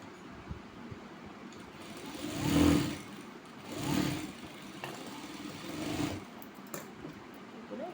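Sewing machine stitching a strip of fabric onto the left side of a blouse piece, running in three short whirring bursts that swell and fade, moderately close with a soft background hiss between runs.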